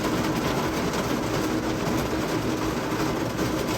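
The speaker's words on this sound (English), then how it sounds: "This is the kind of rain we've been getting. It's just been like huge raindrops." Heavy rain with huge raindrops pouring down on a rainforest property, a dense, steady roar of rain that stays loud and even throughout, with no voices.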